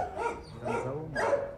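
Fierce dogs over a calf they are devouring, giving loud, close barks and yelping bursts in three quick outbursts, with no speech.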